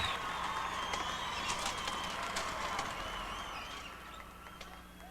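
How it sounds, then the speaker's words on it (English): Stadium crowd applause for the Green Mountain High School Marching Band at the 1995 Colorado 5A state marching band finals, a distant, faint roar of clapping and cheering that slowly tapers off. "let's have another big round of applause for the Green Mountain High School Marching Band"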